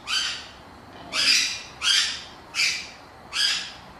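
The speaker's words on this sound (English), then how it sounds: "my little bird wants to go outside." A pet bird squawks indoors in five loud, harsh calls spaced evenly about every three quarters of a second, close and alone.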